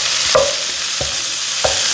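Chopped onion browning in a pan for sheet pan lasagna, with a steady sizzle of frying under three brief stirring scrapes spaced roughly evenly apart, close and moderately loud, no talk.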